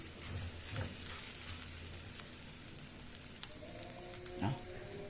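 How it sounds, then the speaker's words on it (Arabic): Rice with spices and salt being sautéed in a pan as a stuffing for pigeons: a soft, steady sizzle with occasional stirring scrapes and a brief clink near the end, heard up close. "لازم تشوحوه كويس قوي قبل ما نسقيه بالميه"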